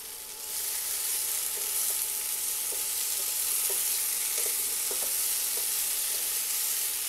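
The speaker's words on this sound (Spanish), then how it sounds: "Y le voy a agregar un poquito más de aceite para que las papas se empiecen a dorar un poquito" Potatoes fry in oil in a pan with a steady, bright sizzle and occasional soft pops, close and continuous for about seven seconds with no talking.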